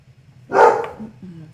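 A single loud, close bark from a dog, followed by a short fading tail over a low background hum.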